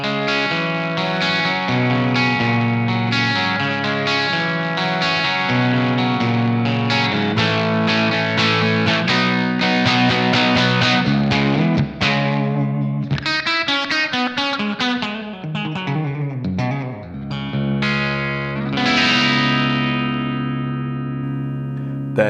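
Electric guitar played through the clean channel of a Blackstar DA100 Ruby amp: a continuous run of ringing chords and melodic lines with a bright, shimmering tone and some added effects, loud and steady with no talking.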